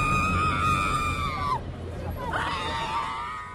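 Relatives of a crime victim scream and wail at a crime scene, a loud high shriek that breaks off and then rises again over the murmur of a crowd.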